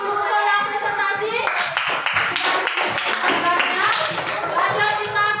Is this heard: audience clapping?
yes